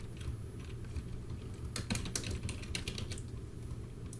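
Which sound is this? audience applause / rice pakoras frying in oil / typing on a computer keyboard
typing on a computer keyboard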